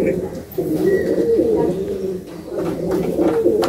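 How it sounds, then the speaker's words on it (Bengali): Andhra Kalanka pigeons cooing steadily at close range, a continuous low throaty rolling coo with occasional clicks and background rustle throughout. "দেখতেই পাচ্ছ কি কোয়ালিটি পায়রা আছে। আন্ধ্রা কালাঙ্কা আমার বাড়ির।"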